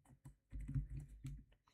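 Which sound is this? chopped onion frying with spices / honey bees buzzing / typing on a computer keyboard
typing on a computer keyboard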